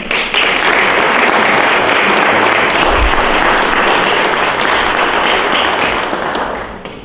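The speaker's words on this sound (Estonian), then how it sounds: "Suure aplausi orkestrile." Loud, dense applause from an audience at a Järvamaa culture awards ceremony, honoring the Türi orchestra, a sustained even roar of many clapping hands that tapers slightly at the end.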